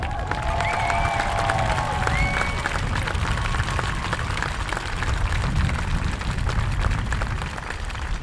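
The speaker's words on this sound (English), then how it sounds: "let's all wish him a round of applause for speedy recovery" Crowd applause and cheering in the stands at an under-16 football bronze medal game, Manitoba versus Alberta, a steady wash of clapping and crowd noise that carries outdoors, with brief whistle-like tones early on.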